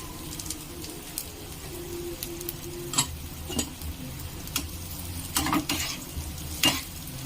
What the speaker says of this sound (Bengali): আমি গাজর কুচিগুলো দিয়ে দিলাম। একটু হালকা লাল করে ভেজে নেব।